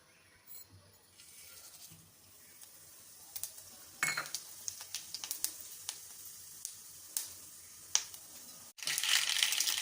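Fennel seeds, cumin and mustard seeds sizzling in hot oil in a kadai: light crackling and sizzling with scattered sharp pops and stirring clatter, growing into a loud steady sizzle near the end; no voices.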